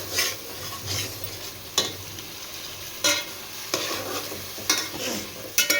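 A brinjal curry with tamarind and jaggery simmers in a pan under a soft, steady bubbling hiss. A spoon stirs it in a series of spaced, scraping strokes, with no voices.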